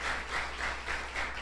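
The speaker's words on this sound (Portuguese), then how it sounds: "Uma salva de palmas aí bem forte para quem, amigos, irmãos, estão nos visitando." A church congregation at a family worship service gives visitors steady applause, a dense, sustained clapping with a soft pulsing swell, fairly loud and without talk.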